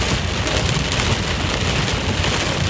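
Dense, storm-heavy rain roars continuously on a flooded road home, a loud, even hiss of countless drops with a deep rumbling underlayer and no voices.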